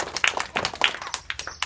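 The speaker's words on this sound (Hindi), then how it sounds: "ताली बजाओ आयुष के लिए" Children in a village community session clap for a boy, a brief patter of light, uneven hand claps close by.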